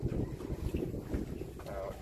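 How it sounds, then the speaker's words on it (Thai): Strong wind buffets a small fishing boat on open water, a continuous low rumbling roar of wind noise with water movement throughout. "ลมเริ่มแรงขึ้นแล้วด้วย"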